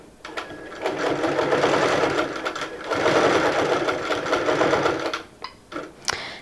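Sewing machine stitching across a quilt, a close, steady fast mechanical whir running for about five seconds, briefly pausing, then stopping with a few clicks and taps.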